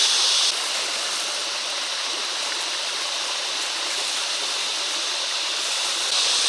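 A forest river flows steadily in a continuous, loud rushing wash of water, close by and alone with no voices.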